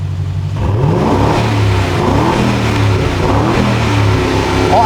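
Aston Martin DB12 engine revving hard with no soft rev limiter, a loud, steady throaty roar that climbs and holds near its peak, close by with no talk over it.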